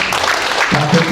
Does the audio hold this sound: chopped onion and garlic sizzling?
no